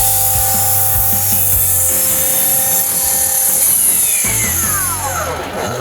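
A Bosch cordless 10-inch double-bevel saw cuts through wood up close, a loud rasping bite over a high motor whine that winds down in falling pitch once the cut ends.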